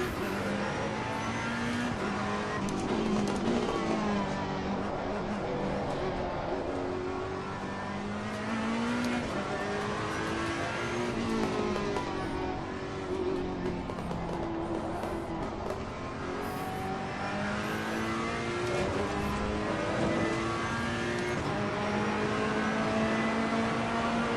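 A race car in Assetto Corsa Competizione roars continuously through revs and gear changes, engine pitch climbing and dropping with gearbox whine and shift effects, loud and unbroken with no talk.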